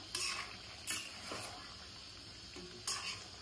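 Mutton and potato curry cooks in a pan, with faint sizzling under a few clinks and scrapes of a spoon stirring against the metal, quiet and close.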